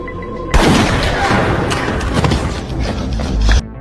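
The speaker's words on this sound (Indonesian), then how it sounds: "Griffin langsung melepaskan tembakan hingga mengenai tangan Jules." Gunshots in an action film scene, a dense burst of loud cracks and booms arriving suddenly and continuing as rapid, overlapping fire for about three seconds before cutting off abruptly.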